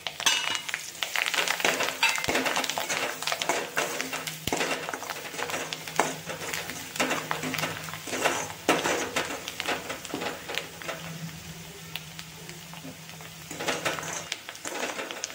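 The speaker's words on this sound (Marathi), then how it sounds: "कोथिंबीर परतून झाली आहे" Chopped coriander stirred and sautéing in a hot masala for a Sankrant mixed vegetable dish, a steady close sizzle broken by scraping spoon strokes against the pan.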